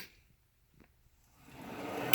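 A drawer on a Snap-on tool box slides open or shut with a short rumble near the end, after a quiet stretch with a faint click.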